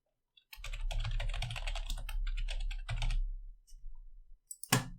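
Quick typing on a computer keyboard, a close burst of rapid key clicks in short runs with brief pauses, ending with a sharper tap.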